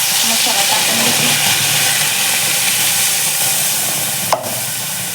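Wet Khandeshi-style masala paste sizzling in very hot oil, a loud, steady broadband hiss close up, with a brief clink near the end.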